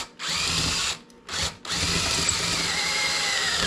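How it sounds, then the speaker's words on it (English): A power drill whines steadily on a 1963 Schwinn Traveler bicycle, its bit spinning a rivet in a fender brace; the loud, close motor cuts out briefly twice, then runs on continuously. "the rivet was just spinning in there and the drill wasn't doing anything"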